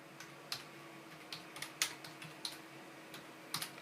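Intermittent clicks of typing on a computer keyboard, scattered irregular taps and short bursts over a quiet background, fairly close, with no talking.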